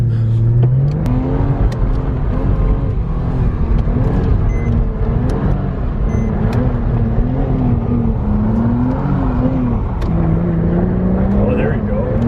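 A Porsche Cayman engine revs loud and close while the car drifts, the pitch rising and falling with throttle in a continuous drone, and someone talks over it.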